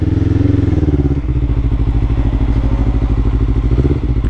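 A Kawasaki EX-500 motorcycle engine idles up close, a loud, steady low-pitched throb with rapid, even pulsing and a slight dip in pitch partway through, no talk.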